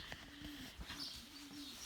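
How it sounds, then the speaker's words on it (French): A tame pet pigeon coos close by in soft, low, repeated rolling calls, about four in a steady rhythm, quiet against faint background noise. "c'est mon pigeon que j'apprivoise"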